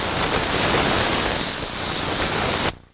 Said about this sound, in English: when you're using one of these spray guns, you hold it about a foot away